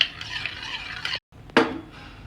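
A spoon stirs milk into curd in a bowl, giving soft scraping swishes and a few clinks against the sides, with a brief pause before one sharper knock and more stirring.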